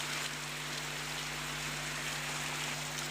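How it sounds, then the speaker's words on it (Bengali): Heavy rain falls at Khalishpur bazar in Jhenaidah, a steady, even wash of faint broadband noise with a low electrical-sounding hum running underneath the whole time. "বৃষ্টির একটি ভিডিও আপনাকে দেখানোর চেষ্টা করব।"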